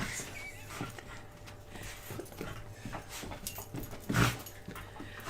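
Juno the dog pants and huffs close by, a soft irregular breathing with a sharper louder huff near the end, while a person talks intermittently nearby.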